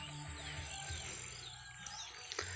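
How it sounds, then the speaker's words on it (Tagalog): Flocks of Eurasian tree sparrows chirp over a rice paddy on a cool morning, with many faint, scattered tweets against a steady background hum. "kung maririnig natin yung huni ng Maya."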